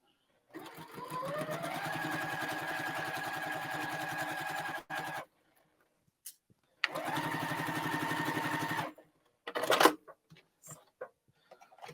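A home sewing machine stitches quilt squares together in two steady bursts of rapid, even running, each several seconds long, separated by brief pauses with small handling clicks and fabric rustles close by.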